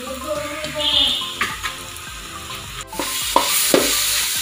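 Fried banana mixture being stirred in a pan with sugar, cardamom and cumin, giving a soft sizzle under scraping strokes and a few sharp clacks of the spoon, close and fairly loud.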